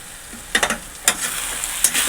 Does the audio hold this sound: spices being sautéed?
yes